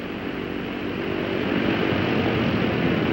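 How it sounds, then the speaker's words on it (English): The engines of a four-engine 1953 Eastern airliner run up before takeoff, a loud continuous propeller roar that swells louder partway through and holds steady, with no talk. "And so on until all 4 engines have been run up and checked."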